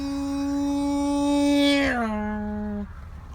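A single voice imitates a passing car's Doppler effect, holding a steady, fairly loud hummed tone that bends sharply downward in pitch midway through, then sustains the lower note briefly before cutting off.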